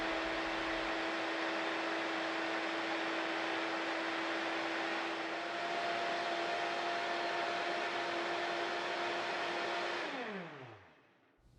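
A Vitamix blender runs at high speed with a vortex pulling ingredients down from the top: a steady, loud motor roar with a constant whine, sustained for about ten seconds before the motor winds down and the pitch drops away.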